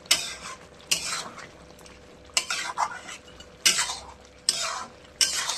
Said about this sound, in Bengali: এরকম আস্তে আস্তে এরকম করে কষাতে থাকবো, আরও সুন্দর কালার আসবে